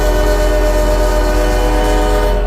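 Horn of a commuter locomotive in a Roblox train sandbox game, one loud sustained chime chord blaring without a break for the whole clip, with nobody talking.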